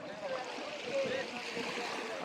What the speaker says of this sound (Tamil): இதான் வந்து தண்ணி, கடல் தண்ணி.